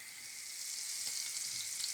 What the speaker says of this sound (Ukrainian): Змащуємо пательню вершковим маслом.